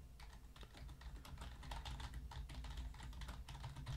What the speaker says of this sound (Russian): сейчас, например, сзади клавиатуры я на нее напечатаю